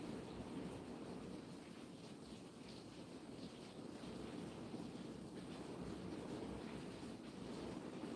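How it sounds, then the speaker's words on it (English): Strong wind from Hurricane Milton roars steadily as a continuous broadband rush, with gusty surges buffeting the microphone throughout and no voices. "But it's windy out there, man."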